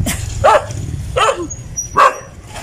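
A dog barks three times, fairly close and loud, with short gaps between each bark.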